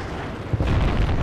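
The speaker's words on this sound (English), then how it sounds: "And that building's fucking coming down again." A building crumbles apart in the Battlefield: Bad Company 2 video game, a loud, rumbling boom of collapse that swells and holds for a second amid heavy low-end debris noise.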